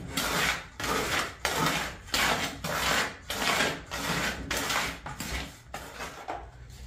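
Cement mix for a Volkswagen Beetle-shaped planter is stirred in steady, rhythmic scraping strokes, about one per second. The gritty rubbing sounds close and fairly loud, with no voices.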